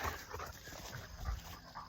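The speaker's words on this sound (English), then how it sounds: "Dog's playing." Two young male dogs, about four years old, play together, giving faint whimpers, soft yips and panting at a low level.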